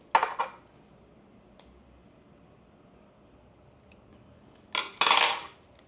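Metal utensils clink against a takeaway container as the fried egg is pushed off a Macau-style beef and fried-potato noodle dish; a short clatter at the start, a quiet pause, then a louder scraping rattle near the end.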